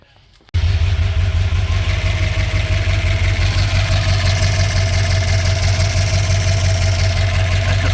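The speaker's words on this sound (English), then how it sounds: "let's fire it up and see if it leaks again." Ford EB XR8 V8 engine cranks and fires after a brief quiet moment, then settles into a loud, steady, rumbling idle close by with no talk over it.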